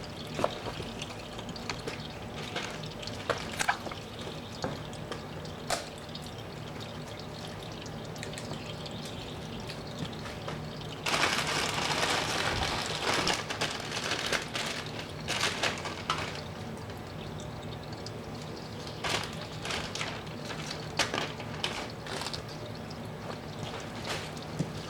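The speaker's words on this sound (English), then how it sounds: "We're just going to give it a few more minutes and let that really drip out." Transmission fluid drains from a 2012 Honda Civic in a steady pour and trickle with irregular drips, close and fairly quiet, a brief stronger splash midway and no talking.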